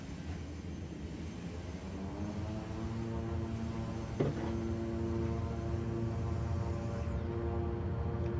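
Airliner engines in Microsoft Flight Simulator spool up for a takeoff roll from Paris Charles de Gaulle, a steady droning hum with layered tonal whine that builds gradually, heard alone without talk.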